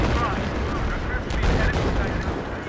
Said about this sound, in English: There's a kid shooting me